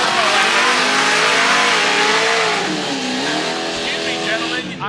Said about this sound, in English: These burnouts for us are incredibly loud.